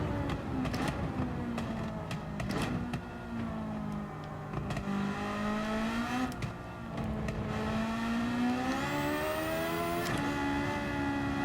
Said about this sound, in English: It's a fantastic V8 engine from the Suzuki VGT Group 3 car.